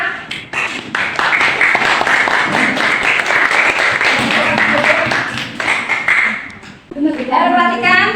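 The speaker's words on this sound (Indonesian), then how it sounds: "Tepuk tangan untuk kelompok 5." Schoolchildren in a classroom clapping for a group of classmates, a brisk, rhythmic patter of many small hands, close and loud, briefly dipping before a few voices come in near the end.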